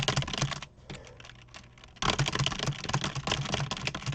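Rapid, dense computer keyboard typing during a typing speed test, a near and continuous clatter of keystrokes that pauses briefly then resumes even louder, with no voices.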